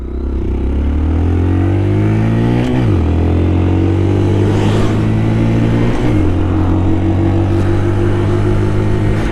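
A Honda Monkey 125 motorcycle engine drones loudly up close while riding, revving up through gears with a couple of clear shift drops as the pitch climbs steadily.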